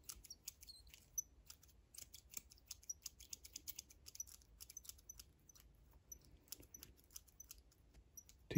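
Scissors snip repeatedly as a ready-made deciduous model tree is trimmed and thinned, a run of quick, light, close metallic clicks with a faint steady hiss in the background.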